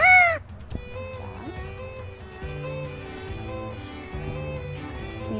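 A talking bird mimics a rooster's crow, giving a loud, tonal call at the start that fades into a softer run of harmonic warbles and chatter lasting several seconds.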